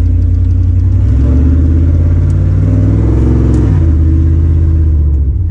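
A 1998 Chevrolet K1500 pickup with a swapped-in 5.3 V8 accelerates with a loud, deep, steady engine roar that rises slightly in pitch as it pulls, heard from inside the cab with no talking.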